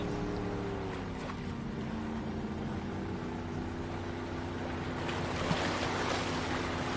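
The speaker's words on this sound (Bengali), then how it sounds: "মিস্টার থমাস, আমাদের বোটটা উত্তর পূর্ব দিকে নিয়ে চলুন" A cartoon boat cruises across the open sea with a steady low motor drone and a soft wash of water. The sound stays even throughout, with no voices.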